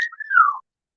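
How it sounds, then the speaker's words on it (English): A pet bird gives a short wolf whistle indoors, a single clear whistled glide lasting about half a second, then silence. "He gave you the wolf whistle."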